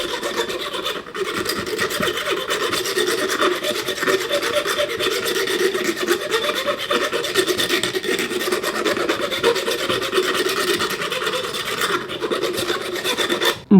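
The file of a Leatherman Arc multitool rasps against iron in steady, continuous back-and-forth strokes, close and fairly loud, with no speech.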